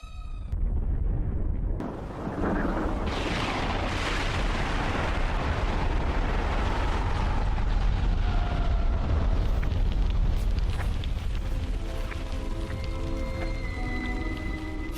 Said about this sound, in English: Next comes the blast front.